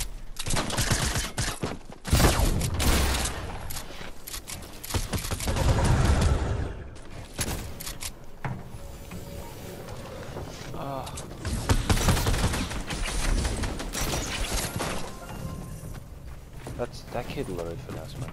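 Bursts of rapid gunfire erupt in a shooter video game, loud, dense volleys recurring over the whole stretch, with a player talking over the shots.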